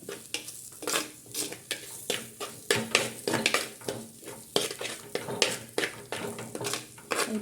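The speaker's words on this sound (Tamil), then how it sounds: "பொடி மல்லித்தூள் மிளகாய்த்தூள் மஞ்சள் தூள் அதையும் போட்டு நல்லா வதக்கிக்கோங்க" Onions with coriander, chilli and turmeric powders are sautéed in a pan for fish kulambu, giving a rhythmic series of close spatula scrapes and clanks over a constant sizzle.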